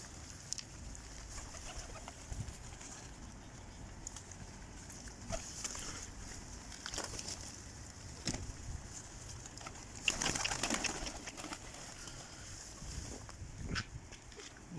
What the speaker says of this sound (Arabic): اما هاي الطيور حاطيها للونسة،